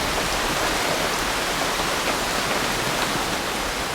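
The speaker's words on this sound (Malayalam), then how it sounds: "എന്തൊരു മഴയാണ്." Rain falls in a steady, unbroken shower, a constant soft hiss filling the scene with no voices heard.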